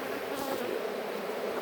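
Honey bees crowd a full hive box packed with drone cells, their dense, steady buzzing close and continuous throughout the short stretch, with no voices.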